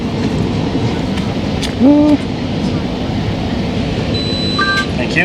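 Commuter train bound for Toronto Union Station rolling steadily, a continuous low rumble throughout with a brief tonal chime or announcement tone near the middle and faint high squeals toward the end; murmured voices nearby.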